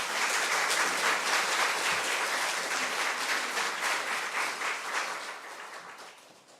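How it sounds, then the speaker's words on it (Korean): An audience at a Franciscan spirituality lecture claps steadily in warm applause that gradually fades away toward the end, with no one speaking over it. "박수로 환영하겠습니다"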